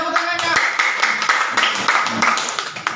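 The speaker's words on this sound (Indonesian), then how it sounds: "sekali lagi tepuk tangannya" Audience clapping at a student preaching festival, dense continuous applause of many hands throughout, fairly loud and close, with some voices mixed in.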